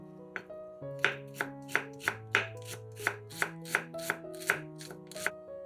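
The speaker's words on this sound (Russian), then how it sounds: "Половину луковицы нарезаем маленькими кубиками." A knife dices an onion on a cutting board in a quick series of about a dozen crisp, close knocks, with faint background music.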